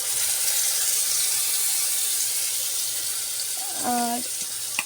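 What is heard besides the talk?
spice paste of turmeric, chilli, cumin, coriander frying in pan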